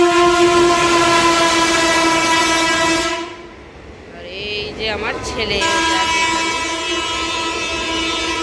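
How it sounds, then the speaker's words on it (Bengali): A through train passes Uttarpara station, its loud, sustained horn blaring close by before cutting off as the rumble and clatter of the passing train take over, with a person speaking over the noise. "উত্তরপাড়া স্টেশন থেকে থ্রু ট্রেন যাচ্ছে।"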